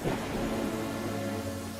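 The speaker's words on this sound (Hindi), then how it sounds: "मैं बस बारिश रुकने का इंतजार कर रहा हूँ।" Heavy rain with a low rumble of thunder in a cartoon storm scene, a steady dense wash of noise filling the whole stretch with deep rolling undertones, loud and continuous without any voices.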